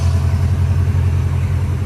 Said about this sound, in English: But look at that V8 engine.